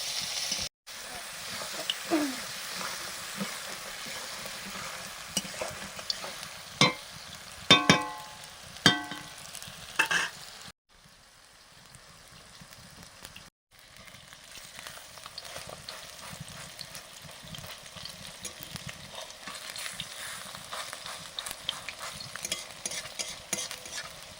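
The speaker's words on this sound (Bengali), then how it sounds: "আগে চিংড়িটা ভেজে নিচ্ছি" Prawns frying in a pan give a steady, moderate sizzle with several sharp clatters of stirring near the middle, then a brief quieter gap before the frying hiss resumes.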